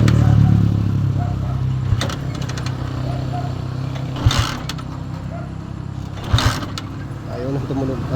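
A motorcycle engine idles roughly while its spark plug cap is tested, a steady low putter broken by a couple of sharp clattering bursts, with some handling noise nearby.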